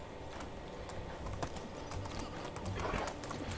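Horse hooves clip-clop faintly in the medieval game Medieval Dynasty, a soft irregular patter of light hoof taps over a steady low background hiss, with no voices.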